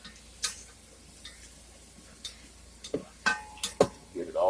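Utensil scraping and ticking against a pot while flour is stirred into a roux for turkey soup, a few scattered sharp clicks and taps, light and close, over a quiet background.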